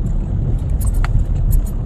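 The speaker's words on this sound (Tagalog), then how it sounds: "lusong muna tayo sa baha. So kaya naman to, nakakadaan naman yung motor eh." A motorcycle wading through flood water after heavy rain in Caniogan, Pasig, its engine rumbling loudly and close with water swishing and splashing around it throughout.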